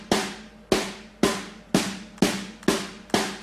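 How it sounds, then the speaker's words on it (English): Seven damped Rogers snare drum hits from an EZDrummer sample play alone at an even, moderate pace, each a sharp crack with a short, tight decay. "dumping the snare will actually decrease its sustain"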